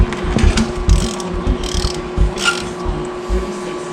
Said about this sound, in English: first up we're just going to take the plug out of the Tohatsu and drain the oil